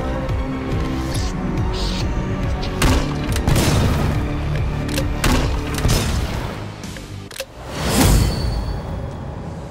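Chaotic Killing Floor 2 combat with a flashbang grenade bursting amid gunfire, whooshes and crashing impacts, a sharp loud bang near the end standing out from the dense din.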